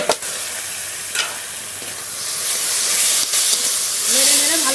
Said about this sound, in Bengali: এবার একটু আস্তে আস্তে জাল দিয়ে ভালো করে কষিয়ে নেব